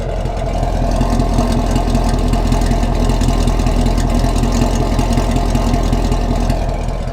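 A 2019 Camaro SS V8 with its mufflers deleted and exhaust valves open in track mode idles steadily and loudly, a deep, even rumble that holds with no revs or talk.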